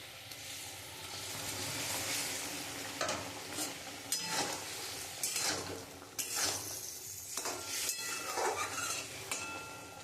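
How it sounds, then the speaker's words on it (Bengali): Fish roe from catla goes into a boiling spiced curry and is stirred in the pan, giving a soft bubbling sizzle with repeated scraping and clinks of a spoon against metal, no talking. "আমার ঝোলটা একদম ফুটে গেছে এবার আমি মাছের ডিমগুলো দিয়ে দেবো"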